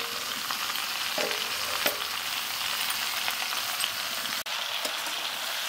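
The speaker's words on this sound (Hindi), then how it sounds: "देखिए, हमारा चना जो है हल्का सा भून गया है। सब हम सब्जियां डाल रहे हैं।" Chickpeas and ridge gourd vegetables fry in a pan with a loud, steady sizzle and occasional stirring scrapes. No voices are heard.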